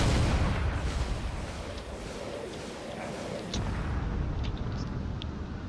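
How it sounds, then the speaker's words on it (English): A massive explosion in a drone-warfare space battle game, with a battleship and corvettes going down, rumbles loudly with dense, sustained booms that fade a little and then surge again, with sharper crackling bursts on top. "That's a massive explosion over there."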